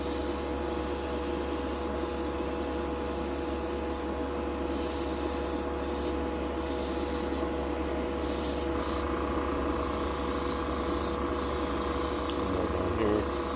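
A coat of Gaahleri Kaleido Colorworks paint goes on as a steady, close spray hiss, broken by several short pauses between passes.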